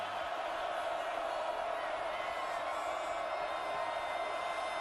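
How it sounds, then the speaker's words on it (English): Roaring college football crowd at Autzen Stadium in Eugene during a Stanford versus Oregon game, a dense, sustained wall of cheering and yelling at steady volume, heard from a distance through the broadcast. "listen to this Autzen crowd"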